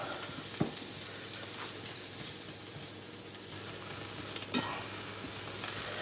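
Shrimp frying in a pan for egg and shrimp fried rice, a steady close sizzle with scraping stirs and a few sharp utensil clicks throughout.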